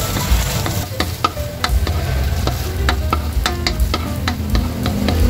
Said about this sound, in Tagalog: Mainit na guys yung ating mantika, ilalagay na natin itong luya.